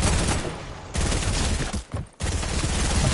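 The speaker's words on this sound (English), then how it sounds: "Oh, he's shooting me now." Rapid automatic gunfire in the Fortnite video game, loud close bursts of shots that briefly cut out near the end before resuming, with no talk over it.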